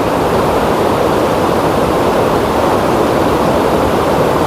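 Constant, dense rush of the Aklan River in the Philippines, a steady roaring flow that fills the whole span with no pauses and no voices.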